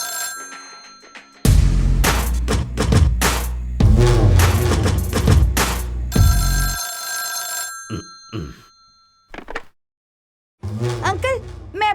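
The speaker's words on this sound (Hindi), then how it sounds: "डैडी फोन बज रहा है डैडी।" A telephone bell rings loudly in repeated bursts inside a home, mixed with dramatic film score and background voices in a dubbed movie scene.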